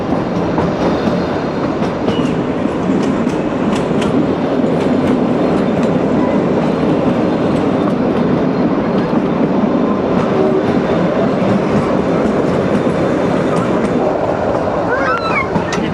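The Shimla toy train rolls along its narrow-gauge mountain rails with a loud, steady rumble and rhythmic clickety-clack of wheels, continuous and close throughout, with no clear talk.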